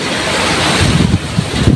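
Strong wind and rain during Typhoon Egay, a loud continuous roar with gusty rumbling buffeting the microphone close by, swelling in bursts toward the end with no voices.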